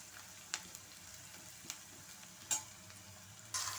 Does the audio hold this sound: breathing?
no